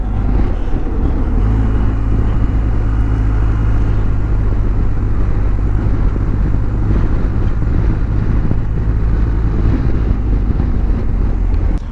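A BMW GS motorcycle engine runs steadily and loudly up close for the whole stretch, a low droning rumble with a constant hum and some wind buffeting.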